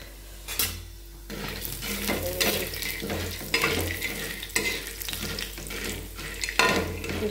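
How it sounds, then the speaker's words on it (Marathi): Sandage, dried lentil dumplings, fry in oil on a tava with a busy crackling sizzle, while a utensil stirs and clinks against the pan in irregular bursts; no one speaks. "असे सांडगे तळले तव्यात"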